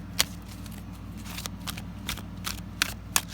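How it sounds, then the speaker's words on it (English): A slightly stiff deck of tarot cards is shuffled up close, giving a series of sharp riffling snaps and soft sliding rustles at irregular intervals over a quiet hum. "Just gonna get one more good shuffle out of this deck"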